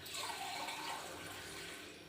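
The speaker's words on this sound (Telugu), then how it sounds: "వాటర్ పోసేద్దాం." Water is poured into a pot of eggs and salt to boil them, giving a soft, continuous splashing flow that stays faint and unbroken for a couple of seconds.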